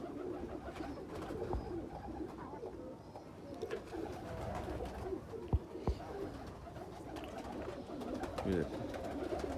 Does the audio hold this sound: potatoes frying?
no